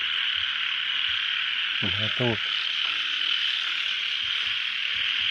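Steady dense chorus of frogs and night insects droning throughout, with a brief burst of speech in the middle.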